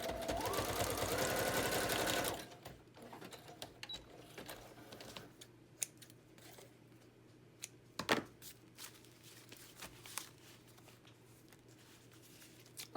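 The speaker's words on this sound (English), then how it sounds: "I'm just going to stitch it down on the edge of this page." Sewing machine stitching along the edge of a small paper journal page, a brief rapid whirring run of about two seconds, then quiet handling noises with a few soft clicks and taps.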